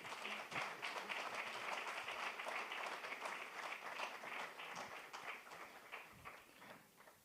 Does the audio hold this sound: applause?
yes